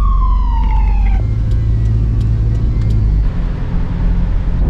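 A passing ambulance siren on a New Zealand road wails loud and close, its pitch dropping sharply as it goes by, then fades into road and engine rumble as the car follows.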